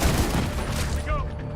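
A short burst of loud, rapid gunfire in Tom Clancy's The Division 2, sharp shots crackling close up, with a faint whistle-like tone near the end.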